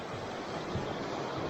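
Steady rushing of creek water beside a hiking trail near a bridge, a continuous broadband wash at moderate level with no voices.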